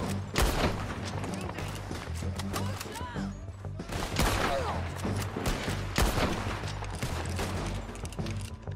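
Gunfire in a Red Dead Redemption 2 shootout crackles in loud repeated volleys and single cracks, some close and some echoing farther off, over steady background rumble and other game sounds.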